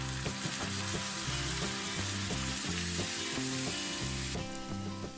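Shrimp fry in a wok of hot oil just after cooking wine goes in, for a Chinese braised shrimp dish; a loud, steady, close sizzle runs throughout, with a melodic tune playing underneath.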